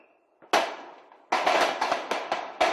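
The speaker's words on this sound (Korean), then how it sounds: "커다란 총소리에 훈련소가 울린다." A rapid string of loud, sharp rifle gunshot cracks during live-fire training at an army boot camp, one shot followed after a pause by a quick irregular volley, each echoing briefly.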